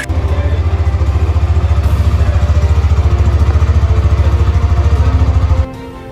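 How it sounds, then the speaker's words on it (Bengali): A Hero Extreme 125 R motorcycle engine idles close by with a steady, even low thrum and a fast regular pulse, then cuts off abruptly near the end. "এই বাইকটা দেখেন ইঞ্জিনের সাউন্ড"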